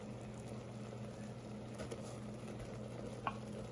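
Flour being mixed into a pan for chicken pot pie, a faint low sizzle with soft scraping of a spoon and an occasional light clink, quiet and steady throughout with no talking.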